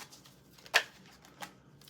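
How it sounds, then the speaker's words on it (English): A deck of tarot cards being shuffled by hand, a soft riffle burst followed by a fainter second one, close and quiet with no talk. "A couple more shuffles here."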